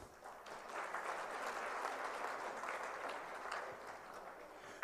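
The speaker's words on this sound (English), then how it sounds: "Let us all today put our hand together to thank and give them big round of applause." An audience at the ICSI Foundation Day ceremony gives a round of applause, a broad, even roar of many hands clapping, distant and fairly faint, swelling and then easing.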